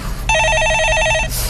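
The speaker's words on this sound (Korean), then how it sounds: "자, 제가 한번 전화 받아볼게요" A telephone rings during a live stock market call-in broadcast, one sustained electronic trilling ring, loud and close, over a steady studio hum.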